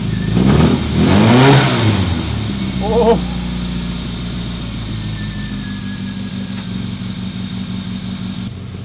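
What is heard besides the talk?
classic Mini car engine revving then idling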